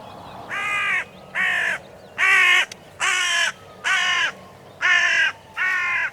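A hooded crow in a nearby tree gives seven harsh, evenly spaced caws, loud and close, with quiet pauses between each call.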